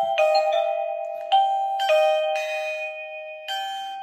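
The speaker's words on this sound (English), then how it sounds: "you can actually program a different doorbell to sound a different chime" A wifi doorbell chime rings through several programmed tunes, each a bright electronic ding-dong tone sounding clearly in sequence, with fresh strikes restarting the melody at intervals and no talking.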